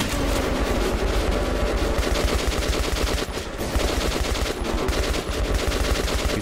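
Rapid, continuous gunfire from a revolver in Metro 2033, loud and dense bursts running almost without pause, with only a brief dip in the middle.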